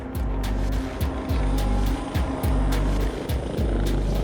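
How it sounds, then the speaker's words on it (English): Helicopter rotor thudding loudly and rhythmically as it comes in to land near a motorway, with repeating low beating pulses and engine whine filling the whole stretch. "I'm just trying to get the helicopter landed"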